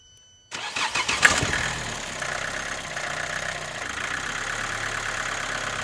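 A 2013 Vauxhall Astra J 1.7 CDTi diesel with a high fuel pressure fault cranks and fires after a short silence, then settles into a steady, close diesel idle with a faint clattery knock.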